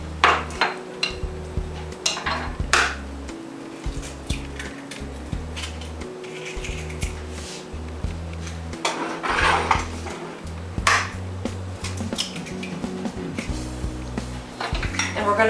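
Eggs being beaten with a utensil in a bowl for elephant ears batter, a steady run of quick clinking taps against the bowl's sides, close and fairly loud, with a low background hum and no voices.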